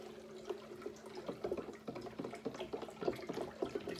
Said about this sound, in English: I'm going to stir it in first stir that honey in